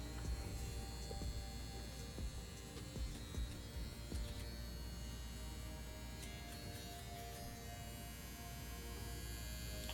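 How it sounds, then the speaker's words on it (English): A CNC S1 rotary tattoo machine runs steadily with a 5-round shader needle, giving a constant electric buzz and hum with no pauses and no voices. "this is the way that the machine sounds pushing the CNC Police 5-round shader"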